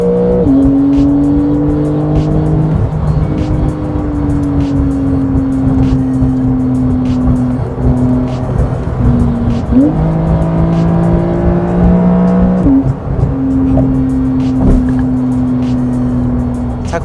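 A Porsche 911 Carrera S (992 generation) in Sport Response mode revs loudly and steadily from inside the cabin, its engine tone climbing and dropping in gear-change steps over a constant road roar.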